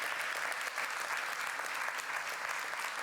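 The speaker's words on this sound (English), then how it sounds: "Can we give a very warm round of applause to these fabulous speakers?" A conference audience applauds speakers at a session on regions in post-industrial transition. The clapping is warm and sustained, with many hands patting at an even level, and no talking over it.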